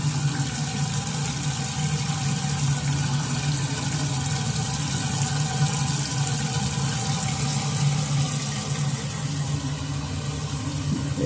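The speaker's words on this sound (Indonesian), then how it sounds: "coba kita hidupkan kerannya, apakah menggendang lagi" A kitchen sink tap runs steadily just after a clogged drain has been cleared, a continuous close hiss of flowing water with a low hum underneath and no talking.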